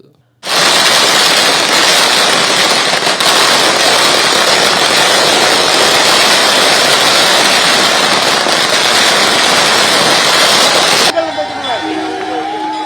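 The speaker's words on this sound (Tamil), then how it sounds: "ஆண்களும் பெண்களும் சிறுவர் சிறுமியரும் பட்டாசுகள் வெடித்தும்" Firecrackers burst at an outdoor village celebration in Arittapatti, Madurai, as a loud, dense, unbroken crackling barrage that runs about ten seconds and then stops abruptly, leaving quieter background noise.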